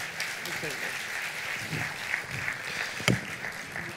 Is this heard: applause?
yes